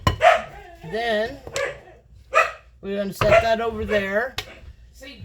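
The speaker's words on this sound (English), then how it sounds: "I'm sorry about the barking dogs" Dogs bark and yip repeatedly in the background of a home kitchen while a person keeps talking over them, the barks sharp and intermittent.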